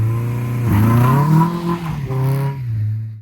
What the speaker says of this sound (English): sending enough torque rearward to force the rear wheels to start slipping on the snow